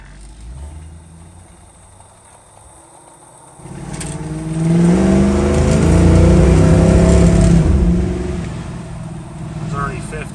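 A 1967 Chevrolet Nova SS surges forward on a test drive, its engine note climbing loud and steady after a quieter idle stretch, then easing slightly near the end.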